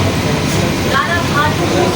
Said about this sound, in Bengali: ট্রেনটি এখন বিধাননগর প্ল্যাটফর্মে প্রবেশ করেছে